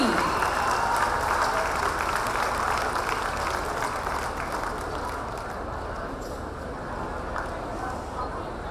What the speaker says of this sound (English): Let's all have a huge round of applause for the release of the Souvenir of Sargam